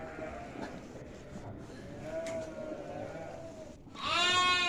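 Lambs bleat over a steady background murmur, with a loud, wavering bleat close by at the end.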